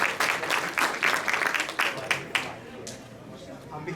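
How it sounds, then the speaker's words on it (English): Audience applause at a college International & Passport Day presentation, a steady patter of clapping for about two and a half seconds that thins and fades toward the end. "Let's give another round of applause."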